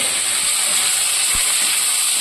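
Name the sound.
potatoes frying in hot oil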